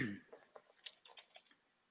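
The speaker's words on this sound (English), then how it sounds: "tell him to stop typing, please." Keys on a computer keyboard click in a quick, uneven run of light taps, faint and close, following a brief burst of voice at the start.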